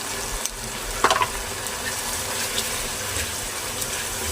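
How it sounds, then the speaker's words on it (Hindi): Garam masala and spices sizzling in oil in a pan while cooking aloo gobi chicken, a steady close frying hiss with a brief louder crackle near the start, no talking. "अब इसकी मैं 1 से 2 मिनट के लिए सिर्फ बुनाई करूंगी मैं।"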